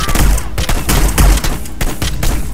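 Dense bursts of gunfire in the video game Hitman: Blood Money, with loud and rapid repeated shots that run almost without a break and no voice over them.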